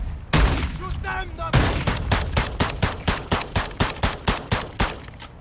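Rapid video-game gunfire while shooting at enemies: a burst of sharp shots followed by a steady string of about fifteen loud, evenly spaced reports, close and dominant.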